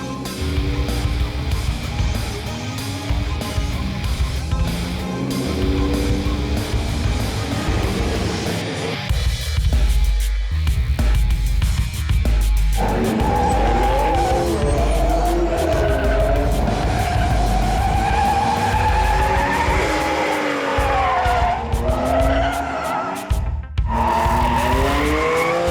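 A Plymouth 'Cuda slides sideways with its engine roaring and tires squealing in long, shifting screeches, loud and sustained across repeated drifts, with brief dips as the car changes direction.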